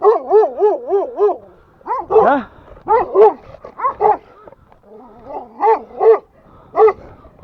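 Several dogs bark and yelp in close, repeated bursts, mixing warbling whines with sharp yips and short pauses between outbursts.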